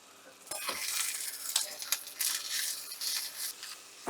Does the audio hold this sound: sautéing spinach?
yes